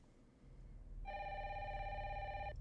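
A telephone rings in a Nintendo Direct game trailer from September 2025: one steady electronic ring burst of about a second and a half that rises over a low rumbling background, with no one talking.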